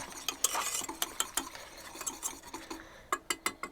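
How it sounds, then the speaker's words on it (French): A spoon stirs hot homemade caramel for throat lozenges in a pot, giving a quick run of soft scraping clicks and taps against the sides, fairly close and steady with no voices. "On va le brasser, comme ça il se refroidit un tout petit peu."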